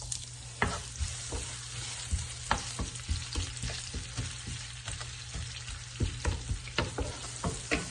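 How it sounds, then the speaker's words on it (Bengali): Onion fries in hot oil in a frying pan for a water spinach dish, a steady close sizzle broken by repeated sharp scraping stirs and clacks, no voices. "তেলটা গরম হলে পরে পেঁয়াজ দিয়ে দিন।"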